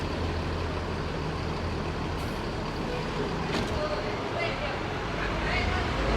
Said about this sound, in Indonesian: halus banget suara Scania K360 ya